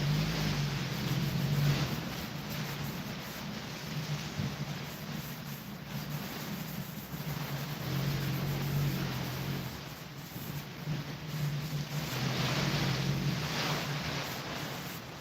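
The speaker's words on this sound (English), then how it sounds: "that is some wind, my guys" Strong wind blowing outside a shop, a steady, loud rushing roar that rises and falls slightly throughout, with a faint low hum beneath and no voices.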